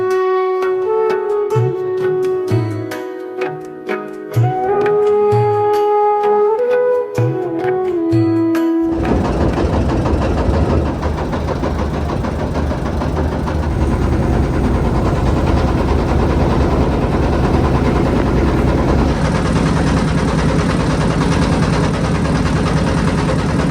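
A river boat engine runs on the Balu river, heading out from Beraid ghat near Dhaka. It sets in after a stretch of music as a steady, loud, broadband drone that continues unbroken to the end.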